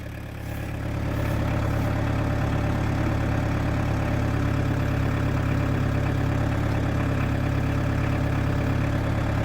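A 2003 New Holland TC40D 4x4 compact diesel tractor with loader idles steadily, a continuous low rumbling drone with even vibration that holds at a constant level throughout, with no voices.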